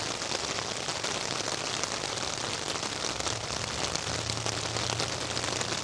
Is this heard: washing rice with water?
no